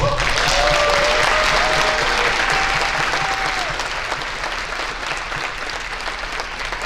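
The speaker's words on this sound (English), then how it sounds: "Let us give them one more round of applause." An audience at a Hall of Fame and Lohmann Medal ceremony applauds the honorees with a loud, sustained round of clapping from a large crowd, with a brief whistle early on, easing gradually toward the end.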